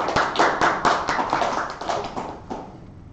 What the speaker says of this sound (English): So, yes, give a round of applause.